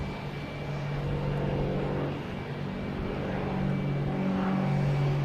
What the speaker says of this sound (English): United Airlines A321 Neo coming in from Chicago.